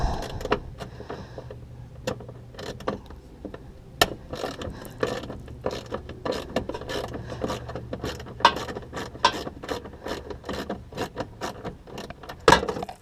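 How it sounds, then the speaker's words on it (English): A hand wrench ratchets a bolt out during foglamp work on a 2009 Lexus GX470. Quick, fairly quiet clicking runs steadily for about thirteen seconds, with a few louder clicks near the end. "let's get this bolt out here"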